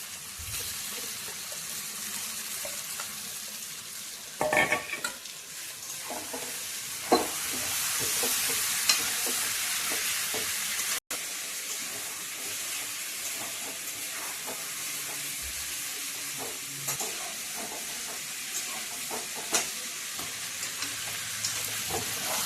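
Boal fish frying in spiced oil in a pan, a steady sizzle throughout with a burst of louder spattering as the pieces go in and occasional stirring clinks.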